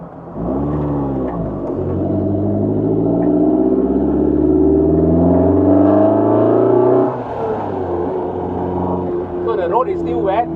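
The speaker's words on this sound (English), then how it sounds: "did you hear the raw sound? That's the unique thing of a VHPD engine." A Lotus 340R with its VHPD engine pulls hard on a wet road, its raw, loud drone climbing steadily in pitch before easing off as the revs drop.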